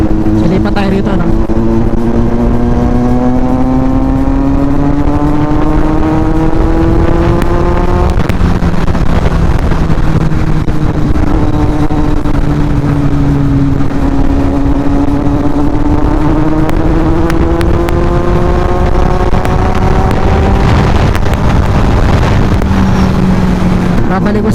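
A Kawasaki Z900 motorcycle pulling hard on an expressway, its engine note rising and falling through gear changes under loud continuous wind roar, with a rider talking over it.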